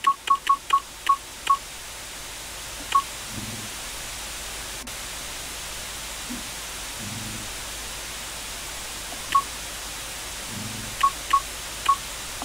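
Touch-tone dialing beeps from a modem telephone in the retro PC game Commander '85: a rapid burst of short tones, then scattered single beeps and a few low thumps over a soft hiss, with no voices.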